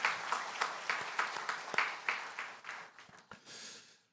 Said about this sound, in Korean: 그 하나님께 큰 영광의 박수 한번 올려드립시다.